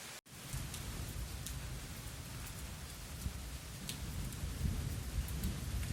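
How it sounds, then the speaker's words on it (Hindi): Steady rain falling with a broad hiss and occasional louder drips, a low rumble underneath, continuous and fairly close. "अभी तो फिर भी कम हो गई, थोड़ी देर पहले तो बहुत तेज बारिश हो रही थी"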